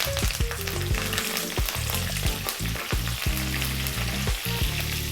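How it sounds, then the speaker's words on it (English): Curry leaves hit hot oil in a pan, bursting into loud, continuous crackling sizzle with rapid popping spits throughout, close and with no voices. "Next up, we're going to drop in the curry leaves, which sometimes can be very noisy."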